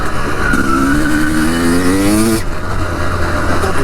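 A Honda 250CR enduro motorcycle engine revs loudly and close by. Its pitch climbs steadily through a long rise, then drops off abruptly and settles to a rougher idle.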